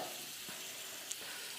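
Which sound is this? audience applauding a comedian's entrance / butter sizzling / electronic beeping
butter sizzling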